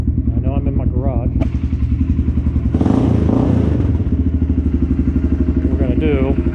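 Kawasaki Brute Force 300 ATV engine fitted with a Big Gun Evo U exhaust, idling and revving inside a garage; a loud, steady, throaty rumble with a brief rise in the middle, and a voice talking over it.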